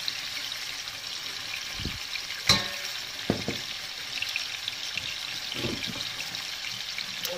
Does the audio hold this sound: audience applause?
no